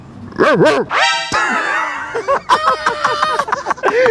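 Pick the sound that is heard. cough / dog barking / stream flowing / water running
dog barking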